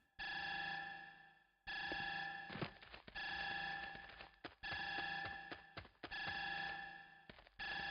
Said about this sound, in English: Lovely alarm sound.